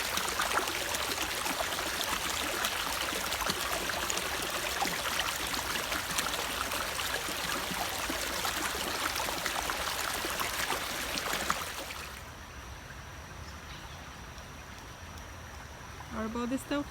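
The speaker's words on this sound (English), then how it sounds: "We can see that the creek flows in one direction just like a river." A creek flowing steadily in one direction outdoors, with a small toy boat floating on it, gives a continuous broadband rush of moving water that fills most of the clip before dropping to a quieter wash near the end.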